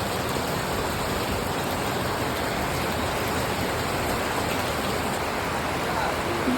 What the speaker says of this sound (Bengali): এত বৃষ্টি।